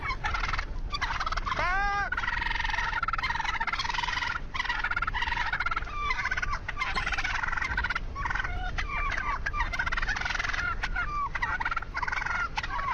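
A large flock of turkeys gobbles loudly and without pause, many overlapping calls rising and falling together close by, with no voices over them.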